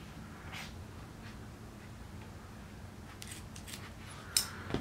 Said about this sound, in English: So let me cut all these chords.